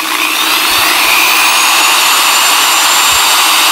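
A loud, steady high-pitched whine of an electric drill motor, powered through an inverter from a 12V battery, running continuously at close range, with no voices.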